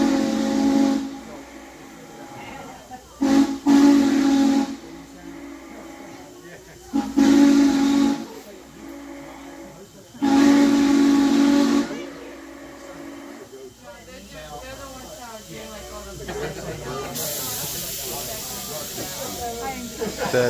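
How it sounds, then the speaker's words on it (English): The steam locomotive 611 whistle sounds in several long, loud blasts separated by pauses at Carpenter's Crossing, with hissing steam and people talking in between. "when we stop here at Carpenter's Crossing and blow a whistle, that ghost answers us back"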